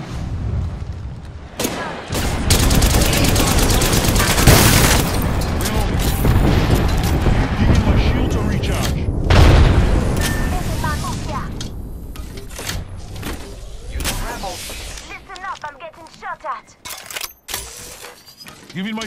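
Loud booming blasts and rapid gunfire fill an Apex Legends firefight, including a grenade explosion, then thin out into scattered shots and clatter.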